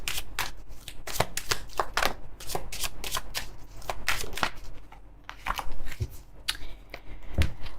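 A deck of tarot cards being shuffled by hand, with quick bursts of crisp riffling and slapping snaps that come in irregular clusters, close up and fairly quiet, with no one speaking.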